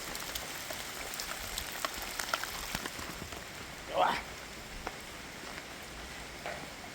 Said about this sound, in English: it's already raining pretty hard